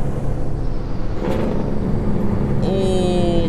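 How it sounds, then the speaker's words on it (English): A Kenworth 521 truck in American Truck Simulator rumbles along, its low engine drone rising into a harsh, pulsing Jake brake bark near the end, with tonal whine layered on top and no voices. "We get to use the Jake brake for the first time here in a second."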